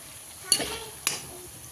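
Onion browning in a pan for pav bhaji gives a faint, low sizzle, punctuated by two sharp spatula scrapes or clinks against the pan, quiet and close.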